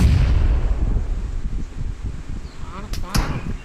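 Sniper rifle shots in PUBG Mobile, with a low rumbling battle bed and a couple of sharp cracks near the end, loud and fairly close, no talk over it.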